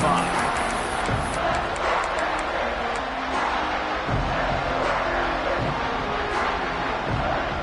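Stadium crowd at a USC vs. Georgia Tech college football game, a continuous dense roar with scattered shouts. A commentator talks over it throughout.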